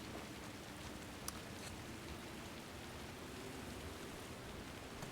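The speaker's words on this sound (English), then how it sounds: "I forgot that it was raining outside." Steady rain falls outside in The Last of Us Part II, a dense, even hiss heard from under a sheltering archway, with a couple of faint brief ticks and no voices.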